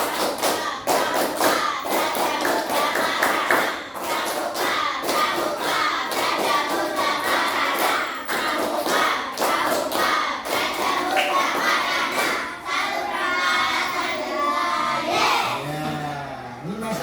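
Schoolchildren in a fifth-grade class perform the Pramuka scout clap, a run of sharp, fairly regular hand-claps and thumps repeated in sets with a crowd-like density, followed by a short stretch of voices near the end.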